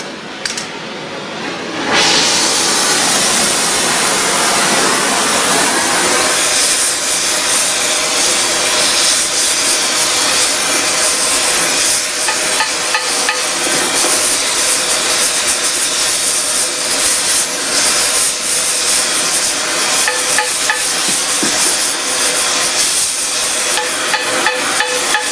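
Heat is applied to a tub grinder jackshaft to loosen it: a loud, steady roaring hiss starts after a brief quieter moment and continues unbroken at close range.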